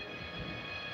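Train rolling forward and pulling away toward a tunnel, a steady low rumble of rail wheels and wagons, continuous and moderately faint throughout with no talk.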